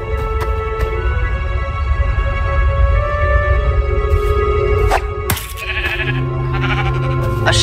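Sheep bleating in the video game Minecraft Story Mode, a few distinct bleats sounding clearly over a steady bed of game music and ambience.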